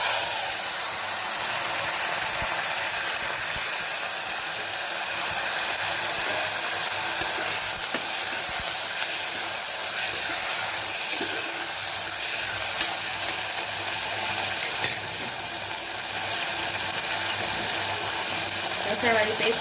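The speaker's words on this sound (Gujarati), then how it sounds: "હવે આપણે ગુવારનો વઘાર કરી દઈશું" Cluster beans (guvar) dropped into hot oil tempered with cumin, ajwain and asafoetida, giving a steady, close hiss of sizzling with occasional stirring scrapes, continuous throughout.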